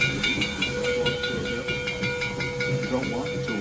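A steam locomotive on the Black Hills line hisses steady steam at close range, a continuous breathy rush with faint whistle-like tones and mechanical clanking underneath.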